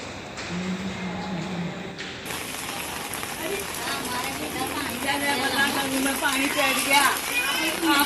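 Heavy monsoon rain pours onto a flooded road in Kapadvanj, a steady dense hiss of water with splashing, while voices and children's chatter carry through nearby.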